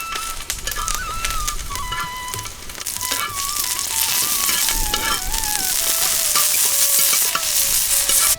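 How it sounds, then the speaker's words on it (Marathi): Seven chillies dry-roast in a pan while being stirred, loud scraping and rustling with a soft sizzle, as a bird coos and calls in the background; nobody speaks. "सात मिरच्या घेतल्या त्या पण त्याला भाजून घ्यायच्या"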